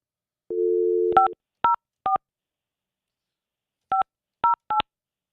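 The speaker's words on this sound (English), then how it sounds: "Oh, you want me to dial?" A telephone keypad plays a steady dial tone, then six short touch-tone beeps in two groups of three separated by a pause, clean and loud with no voices.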